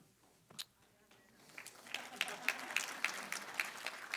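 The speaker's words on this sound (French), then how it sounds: "Je ne sais pas si vous applaudissez parce que vous avez compris ou vous voulez m'encourager." A church audience breaks into applause during a French-language sermon, starting with a few isolated claps, then building into a steady spattering of clapping that grows louder and closer.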